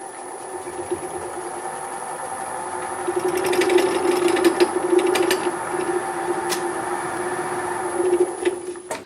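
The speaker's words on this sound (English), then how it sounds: "You can see even a little bit of unstableness is making the lathe bounce around pretty well." Wood lathe spinning an unbalanced bowl blank with wings, a steady motor hum with a rhythmic knocking vibration as the machine bounces, growing somewhat louder in the middle and holding near and constant throughout.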